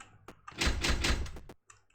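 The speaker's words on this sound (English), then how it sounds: "That's a door shut. That's a door can't be open kind of noise there." A door shuts in a video game with a muffled, heavy rumbling thud lasting about a second, framed by a few soft clicks before and after.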